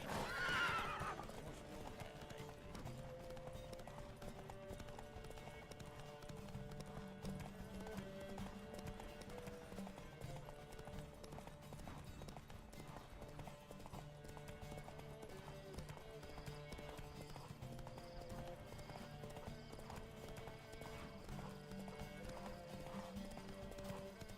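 Rhythmic hoofbeats of a galloping horse in the video game Witcher 3 run continuously with a whinny near the start, set against a game-like musical backdrop.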